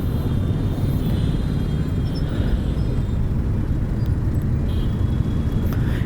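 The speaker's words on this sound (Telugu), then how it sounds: "వామ్మో ఏంది ట్రాఫిక్ కష్టాలు" Dense, continuous rumble of heavy road traffic around a motorbike rider near a city flyover, engines and road noise blending into a loud steady roar with a few brief higher passing sounds.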